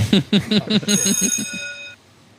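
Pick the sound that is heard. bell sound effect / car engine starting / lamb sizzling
bell sound effect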